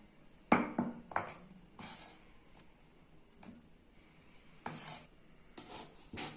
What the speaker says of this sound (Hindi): ये हमने इस तरह से बिल्कुल बारीक बारीक चॉप कर लेने हैं।